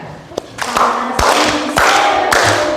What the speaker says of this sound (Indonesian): Menyanyi sambil tepuk tangan.